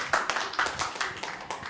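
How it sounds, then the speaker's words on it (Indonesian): Scattered clapping from an audience at a legislative forum panel discussion, several distinct hand claps in a loose, uneven rhythm, fairly close and moderately loud, with no talking over them. "Tepuk tangan buat Bang Fikar."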